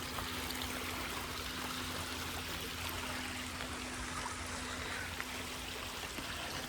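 Water flows steadily in a stream at the Rashtrapati Nilayam grounds in Bollaram, Secunderabad, making a constant broadband rush with a faint steady hum beneath it.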